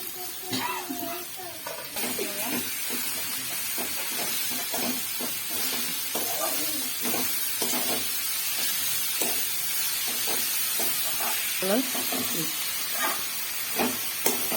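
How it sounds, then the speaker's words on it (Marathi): Okra and amaranth greens tossed into a hot pan sizzle and hiss steadily while a spoon stirs them in repeated scraping strokes, close up and moderately loud, with no one talking. "टाकायची आपली भाजी, टाकायची भेंडी, टाकायचं माठ"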